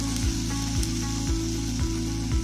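Green chilies fry in hot oil for a restaurant-style paneer butter masala, giving a continuous, close sizzling hiss. A loud, low mechanical hum with regular pulses runs underneath, and no one speaks.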